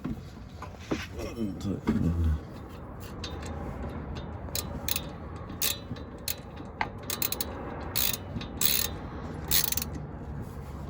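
A ratchet fitted with a 13mm socket tightens a brake bolt on a car with the wheel still on, giving repeated clicking pawl bursts close by over a busy background with faint speech.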